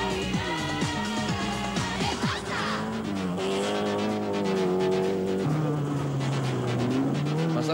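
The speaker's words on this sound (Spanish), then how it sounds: "Autos que van pasando" Rally cars race through a 1994 Rally Trans Itapua stage in Paraguay, engines revving hard and shifting pitch as they pass close by at speed, with steady loud engine noise throughout and no talk.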